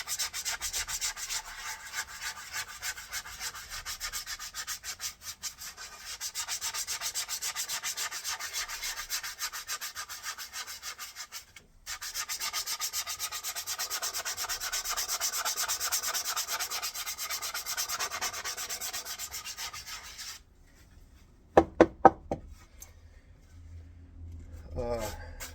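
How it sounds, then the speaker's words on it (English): A basswood bowl is sanded by hand with close, steady rubbing strokes that run continuously with one brief pause, then stop, followed by a few sharp knocks and quiet. "I sand it until I think I've got a nice enough look"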